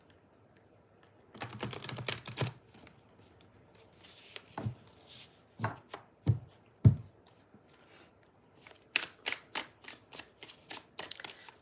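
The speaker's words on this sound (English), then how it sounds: "I am shuffling my decks" Oracle card decks being shuffled by hand, giving soft, close riffling bursts and quick papery flutters in irregular clusters, with brief pauses and a few sharper taps between them.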